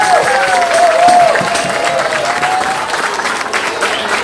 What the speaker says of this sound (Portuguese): Então eu queria uma salva de palmas primeiramente para o mestre